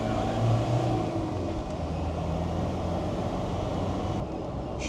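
Dyno-tuned Land Rover 300 Tdi diesel on a road test, a steady engine drone and road rumble from inside the vehicle, a little louder at the start before settling into a constant hum.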